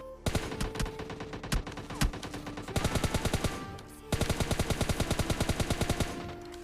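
Automatic gunfire in the mobile shooter PUBG Mobile Lite, with several rapid bursts of loud, closely spaced shots, a short pause between longer strings of fire, and no talking.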